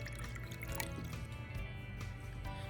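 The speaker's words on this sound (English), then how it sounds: "here I'm adding plain old drinking water" Plain drinking water poured into a bowl, a soft continuous trickling and splashing, faint and close, steady for a few seconds.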